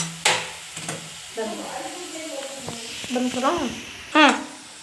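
Potatoes frying in hot oil in a pan for an egg and potato dish, a steady low sizzle under a voice speaking, with a few scraping stirs and clinks.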